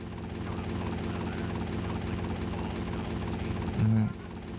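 Helicopter in GTA Vice City Stories on PS2, a steady rotor and engine drone running throughout with a brief louder thump near the end.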